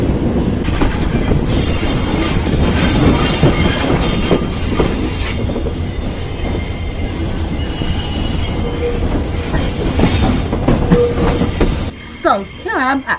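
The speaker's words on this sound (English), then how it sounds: "So here I am at Sfax railway station." A train rolls through Sfax railway station in Tunisia, its wheels squealing loudly over a dense rumble and clatter that lasts throughout, with a sharp change in the sound near the end.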